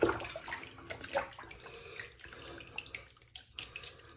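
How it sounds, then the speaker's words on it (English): A soapy shaving brush is pushed bristles-first through a basin of water to rinse it, giving a steady close wash of splashing and trickling with small drips and surges, no voices. "I always push the handle with the bristles into my left hand, laying horizontally in the water, and that forces a water flow through the bottom of the knot of the brush"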